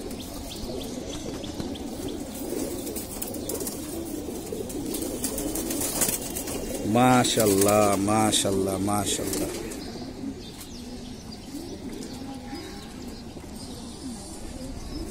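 A pigeon in a home loft with about two hundred birds gives low cooing calls throughout, while someone speaks briefly in the middle.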